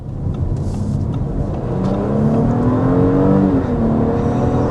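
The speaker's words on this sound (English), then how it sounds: "that was a quick acceleration, a little past 60 miles per hour in the all-new Audi S5" All-new 2026 Audi S5 sport sedan under hard acceleration past 60 mph, engine note climbing through rising pitch with a brief shift, loud cabin drone with road roar and no talk.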